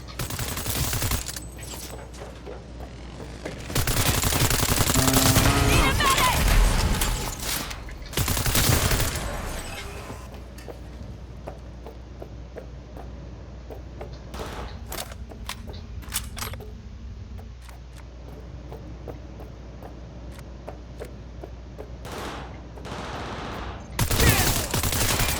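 Bursts of automatic gunfire in the video game Cyberpunk 2077, loud dense fusillades in the first seconds and again near the end, with scattered single shots and clatter between them over a steady background bed.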